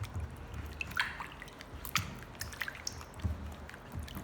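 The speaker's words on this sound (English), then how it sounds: "place the sweet potatoes in a bowl of water to prevent them from browning" Peeled sweet potatoes drop into a bowl of water, giving several soft splashes and drips at irregular intervals over a quiet background.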